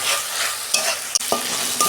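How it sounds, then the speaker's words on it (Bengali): Ginger garlic paste frying for a fish curry gives a bright, continuous sizzle, with a few quick stirring scrapes cutting through the hiss. "আদা রসুনটা না আমি 2 মিনিট কষতে নেব।"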